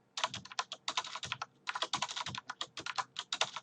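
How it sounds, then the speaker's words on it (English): Rapid typing on a computer keyboard while writing PHP code, with dense bursts of key clicks separated by a few short pauses. "I can't type today."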